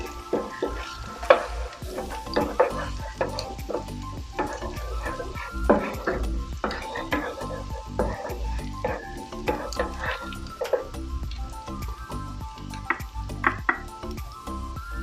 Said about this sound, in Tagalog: Garlic guys. Salang natin ito.